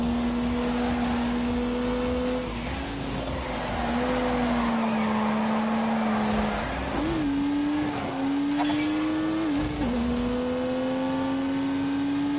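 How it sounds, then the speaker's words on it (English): A turbocharged 3-litre straight-six car engine in The Grand Tour Game drones steadily at high revs, its pitch dipping and rising through gear changes, loud and alone with faint tire noise. "They got back onto the isn't and unleashed 365 rampaging horsepowers from the turbocharged 3-litre straight six."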